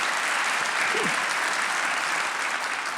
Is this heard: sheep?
no